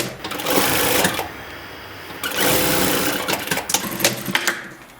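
Domestic sewing machine stitching the side seam of a basic skirt in two loud continuous runs with short pauses between, finishing with a few quick irregular bursts of stitching near the end.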